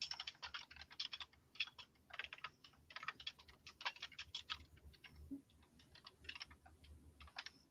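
Typing on a computer keyboard, a steady run of quick, fairly close key clicks with short pauses between bursts, heard alone in a quiet room.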